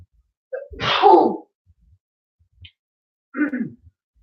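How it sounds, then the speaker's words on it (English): A single loud, explosive sneeze close by, followed after a pause by a shorter, softer second burst. "As I just sneeze my brains out."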